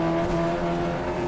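New-for-2023 Audi TT touring race cars lap the 2.6-mile Knockhill circuit with a loud, sustained engine howl and steady tonal harmonics, close and continuous with no pause.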